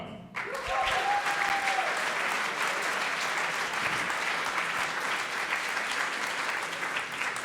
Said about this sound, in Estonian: Siis suur aplaus Hendri ja Indrek Viired ja Oma Rada.